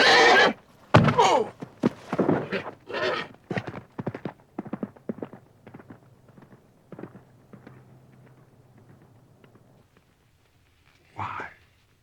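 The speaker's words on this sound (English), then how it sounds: "the horse lashed out and caught him a fatal blow on the forehead." A horse in a dramatized scene gives a loud, close whinny mixed with stamping hooves and thuds. A voice then speaks in a fading sequence, followed by a brief later snort.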